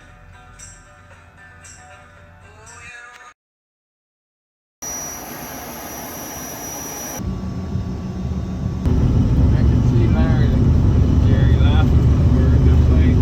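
A small plane's engine drones and builds before takeoff in Alaska, a steady loud rumble that grows heavier partway through, with a break of silence and cuts between scenes.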